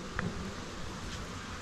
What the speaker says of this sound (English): there's bees all over these frames